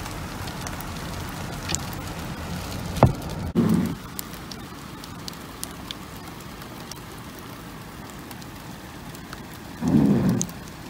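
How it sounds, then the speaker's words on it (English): Hail falls steadily during a hailstorm in Milpitas, California, a dense continuous patter on surfaces nearby, with a few sharper impacts and two brief low rumbling bursts. "This is all snow, guy, or hail."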